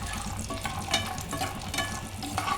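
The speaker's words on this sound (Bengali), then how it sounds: "আমি এটা একটু ব্রাউন কালার করে ভেজে নিচ্ছি" Cashew nuts frying in a pan for a salad, a steady close sizzle with soft stirring scrapes running throughout.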